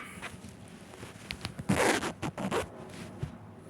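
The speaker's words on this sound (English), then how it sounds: "this is about as far as the zipper goes" A Spirit Halloween Classic Maleficent costume's zipper is pulled in a couple of short, scratchy runs, close and fairly quiet, with no talking.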